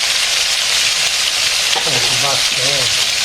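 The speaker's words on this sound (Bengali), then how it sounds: "রান্না হইতেছে" Food frying in a home kitchen with a steady, loud hiss of hot oil throughout, and a few short voiced sounds rising faintly over the sizzle near the end.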